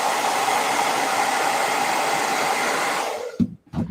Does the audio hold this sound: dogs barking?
no